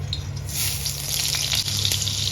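Ingredients for a paneer gravy frying in butter in a pan: a continuous close crackling sizzle with scattered sharper pops, steady in level and without any talking.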